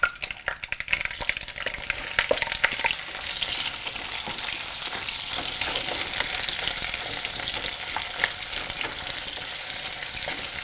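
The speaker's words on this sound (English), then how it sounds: "It's helpful to add a little bit of salt while sauteing the onions." Chopped onions sauté in a pan for Indian home cooking, giving a steady broadband sizzle with occasional stirring scrapes, close and continuous with no talk.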